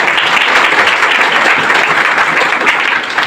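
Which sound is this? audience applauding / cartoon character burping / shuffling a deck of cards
audience applauding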